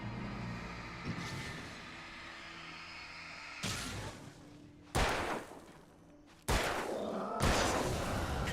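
Gunfire in the video game Alan Wake, several sharp loud shots spaced a second or so apart, each with a short booming tail, over a low dark ambient backdrop.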